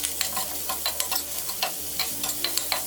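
Chopped onion stirred into garlic in a pan while making homemade pizza sauce, giving a close, soft sizzle with steady scraping and clicking stir strokes, no voices.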